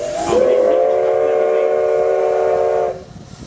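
A long steam train whistle blows steadily for a few seconds over a low rumble as a Virginia and Truckee Railroad train crawls slowly across a pit, then cuts off, leaving quieter background noise.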